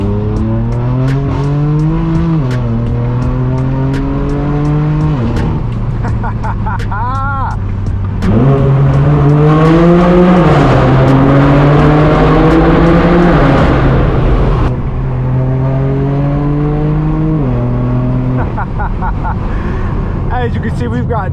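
A straight-piped BMW M4 F82 cruising Southern California streets gives off a loud, raspy exhaust drone heard from inside the car. Its pitch climbs and drops repeatedly through gear changes, with a harder, louder surge in the middle.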